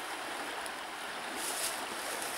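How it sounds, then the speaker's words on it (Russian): Taiga river flowing in forest, a broad steady hiss of rushing water with a soft swell near the middle, close and continuous with no voices. "Речка."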